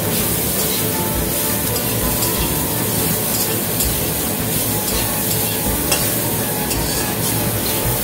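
Beans and potatoes fry in a pan for shukta, a steady, close, loud sizzle with stirring scrapes running throughout and no talking.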